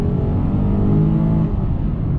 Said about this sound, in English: push the throttle all the way, and you can see the car is spinning, all the wheels